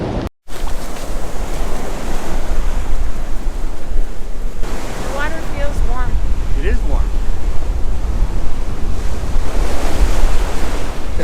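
Surf breaking on the ocean beach at Stocking Island, a steady roar of waves with wind noise buffeting the microphone, continuous and loud throughout.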